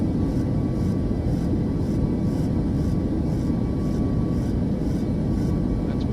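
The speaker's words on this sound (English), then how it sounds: "This is a D-rated takeoff." Boeing 737 engines at takeoff in MSFS2024, a loud continuous roar with a steady whine, carried evenly at high power throughout and a faint periodic pulsing in the upper hiss.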